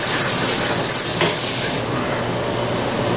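Loud broadband steam hiss rises off a heated carbon steel wok during seasoning, steady and close, then drops to a quieter continuous sizzle partway through.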